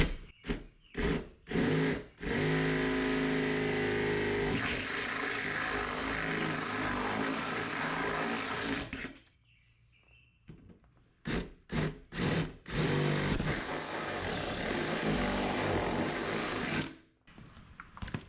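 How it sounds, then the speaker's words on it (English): A power drill with a 3/8 bit oversizes the top two holes in a Jeep XJ door panel for armor mounting, grinding steadily in long bursts with short pauses between, loud and close. "Now we're going to go back with our 3/8 bit and oversized drill these top 2."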